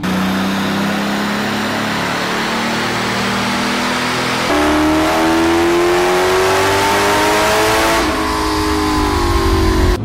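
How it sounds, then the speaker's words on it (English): A Bugatti Veyron engine roars loudly and continuously, its pitch climbing steadily through several gear-like steps as it revs hard, no voices. "The car is so damn loud, you're not gonna be able to understand the sound."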